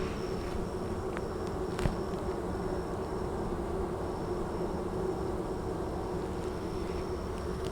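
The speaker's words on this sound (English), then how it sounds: "And all these bees back here are fanning now." A dense, steady buzzing hum of many honeybees fanning in a hive fills the whole stretch, continuous and close, with no voices.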